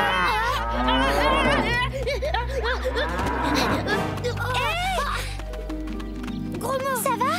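A cartoon bull lets out loud, drawn-out moos over a busy soundtrack, with animated voices and other cartoon sounds throughout.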